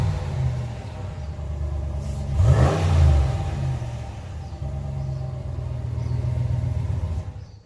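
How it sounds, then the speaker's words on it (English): A 2020 Ram Warlock pickup truck with a Flowmaster Flow FX catback exhaust idles with a deep exhaust rumble, revs up sharply once around the middle, then settles back to a steady low idle. "There's a couple revs for you."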